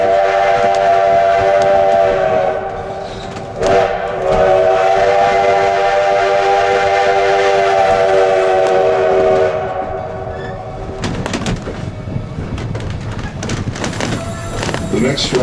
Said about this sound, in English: the famous 1880 train. We're almost at the bottom of the hill here. We have a blind crossing coming up.